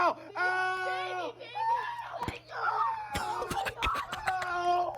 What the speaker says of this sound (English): Listen to her scream